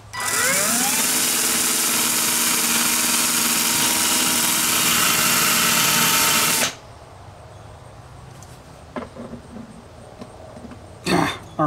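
Wire wheel on a power tool grinding soldered terminals off an Ironton retractable extension cord reel, a loud continuous whirring buzz for several seconds that cuts off abruptly, followed by quieter handling clicks and a brief scrape.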